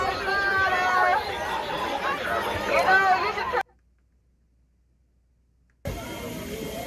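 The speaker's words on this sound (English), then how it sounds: "PPB telling people to disperse immediately via the LRAD, warning use of force, crowd chanting in response." Protest crowd in Portland shouting and chanting back after a police LRAD dispersal warning, a loud mass of overlapping voices that breaks off into silence before the noisy crowd returns.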